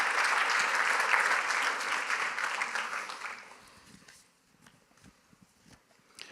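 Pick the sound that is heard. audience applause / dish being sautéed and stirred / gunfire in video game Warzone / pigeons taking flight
audience applause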